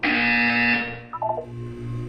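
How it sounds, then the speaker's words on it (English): A harsh buzzer blares in Portal 2 during a test exercise, a loud sustained electronic drone that stops abruptly, followed by a short pulsing electronic tone over a low hum. "When you hear the buzzer, look down at the floor."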